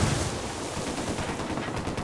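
Sustained, dense automatic fire from a minigun in the co-op shooter Ghost Recon Wildlands, a loud continuous roar of rapid shots with no pauses, heavy low rumble under a bright crackle.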